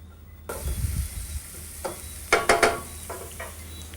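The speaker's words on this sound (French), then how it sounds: "je vais faire revenir mes épices à l'huile d'olive" Spices and chives go into olive oil for a Martinique sea urchin cassolette, giving soft stirring scrapes and then a few short bursts of sizzling, close and moderate in volume with no talking.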